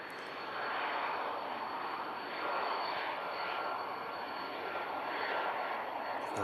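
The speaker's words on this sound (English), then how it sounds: "Goes the Cessna." A Cessna light aircraft at Manchester Airport in thick fog, its engine a steady broad drone that swells and eases slightly throughout, moderately loud and heard alone.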